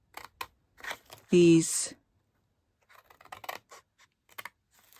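Scissors snip through stamped cardstock for a box project in a few short, crisp cuts, with a brief louder scraping burst amid soft handling noises and a quiet voice.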